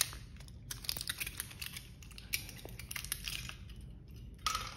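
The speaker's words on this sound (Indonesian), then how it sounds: "Nah, ini masih baru, kita sobek dulu." New vape cartridge packaging being torn open up close, a quiet series of crinkly, crackling rips and rustles coming in short bursts, with no voices.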